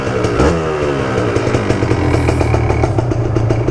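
A Kawasaki Ninja two-stroke motorcycle engine warms up with its exhaust still stock. It idles loud and close with a rough, crackling burble and a few quick throttle blips, and no one talks.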